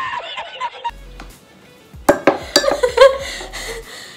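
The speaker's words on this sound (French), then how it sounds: "on vient gratter l'huile et mettre 4 cuillères à soupe dans un bol" A metal spoon scrapes rock-hard coconut oil into a bowl, producing sharp clinks and gritty scraping strokes in an irregular burst, with a faint snicker of laughter in the background.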